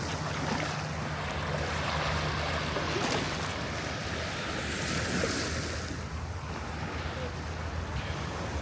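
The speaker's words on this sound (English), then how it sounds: "hopefully the waves here don't make too much noise" Ocean waves washing in at Saadiyat's Soul Beach in Abu Dhabi, a steady, fairly soft surf wash with wind noise on the microphone throughout.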